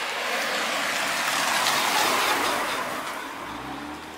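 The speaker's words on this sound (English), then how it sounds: "there's a car coming, so I need to get it off the road" A car approaches on a road in Yilan, Taiwan, a broad tire-and-engine rush that swells as it nears, peaks, then fades slightly as it passes close by, with no talking.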